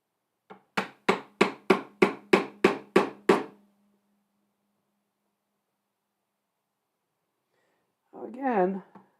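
Mallet or hammer blows on a chisel carving a wooden spoon in a workshop, nine sharp evenly spaced knocks in quick succession, close and clear, then a pause before a person speaks briefly.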